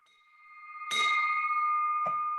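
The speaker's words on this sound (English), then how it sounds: "I love to ring my bell." A small handbell at a civic club luncheon meeting rings with a sustained bright tone that swells, gets struck again, then keeps ringing clearly.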